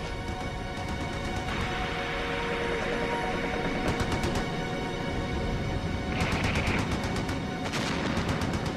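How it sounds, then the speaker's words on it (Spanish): British machine guns sweep a riverbank along the Suez Canal in a First World War attack, heard as rapid, rattling bursts at low volume, repeated several times over a dense, rumbling background. "Luego los ingleses barrieron las riberas con fuego de ametralladora"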